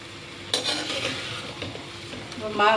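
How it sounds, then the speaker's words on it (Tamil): Raw mango pieces cook down in a pan for a sweet pachadi, with a soft continuous sizzle and bubbling plus a few light stirring scrapes, close and brief with no speech. "மாங்காய் 5 நிமிஷம் நல்லா வேகட்டும், குழைவாக வேகணும்."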